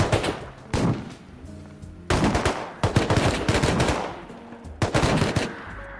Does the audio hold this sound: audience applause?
no